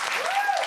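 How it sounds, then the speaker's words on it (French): A studio comedy audience bursts into applause, a brief, dense wash of clapping that stays steady and fairly loud from start to finish. "On va l'applaudir!"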